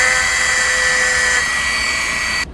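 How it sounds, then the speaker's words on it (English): A Dremel rotary tool drills eye holes in a fishing lure, making a steady high-pitched whine that holds at an even pitch and then stops abruptly. "I need to drill some holes for the eyes, so I'm just gonna use the Dremel."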